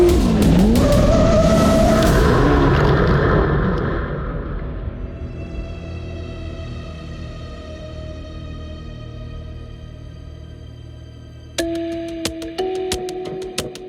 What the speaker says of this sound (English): We're in the dirt, we're doing jumps, we're throwing it sideways.